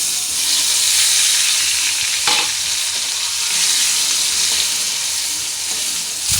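Tomatoes frying in a pan of hot oil seasoned with mustard seeds and coriander, a loud, steady close sizzle with a brief stirring clatter partway through.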